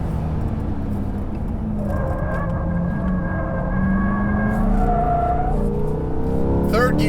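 A 2020 Corvette C8 Z51 engine pulls hard and steady at 3,500 RPM in a third-gear slide on a track, rising in pitch with a brief tire squeal near the end, loud and close with voices underneath.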